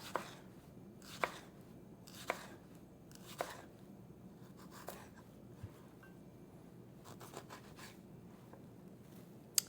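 A serrated knife cuts through tomatoes on a board, giving a series of crisp, separate sawing and chopping strokes at an irregular pace, close and fairly quiet in a still room.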